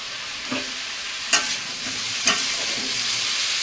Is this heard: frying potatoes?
yes